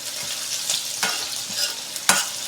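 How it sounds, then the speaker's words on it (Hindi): Onions being lightly sautéed in a pan for Indian poha, a steady soft sizzle with a few sharp scrapes of a spoon stirring, close and continuous without any voices. "प्याज को हल्का सा भूनेंगे, हल्का सा पिंक कलर आएगा"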